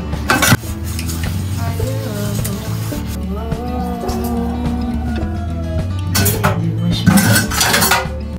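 Dishes and cutlery being washed in a kitchen, with steady running water and clattering plates, pots and silverware knocking together, close and loud throughout.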